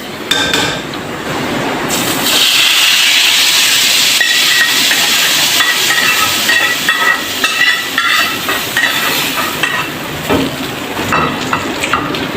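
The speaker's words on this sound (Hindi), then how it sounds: "यहाँ देखें मैं अब तड़का दे रही हूँ।" Cumin, chopped garlic and pepper tempering in hot oil for mash daal, a loud, steady broadband sizzle and hiss that swells after the first two seconds and holds with small crackles, with no voices.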